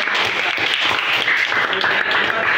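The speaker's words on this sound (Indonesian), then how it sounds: "Kita aplaus ya, kita berikan semangat untuk kita semua ya" Students in a classroom applaud after group presentations in a maths lesson, a dense, steady wash of many hands clapping that stays loud and even for the whole stretch.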